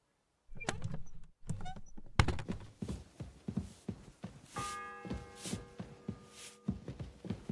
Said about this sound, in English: The fourth bell.